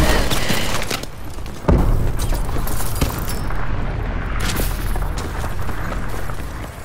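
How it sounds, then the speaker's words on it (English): Heavy, continuous automatic fire from a Vulcan killstreak in Call of Duty: Advanced Warfare multiplayer, a dense roaring barrage with a loud thump near the start, sustained throughout. "Friendly Vulcan above."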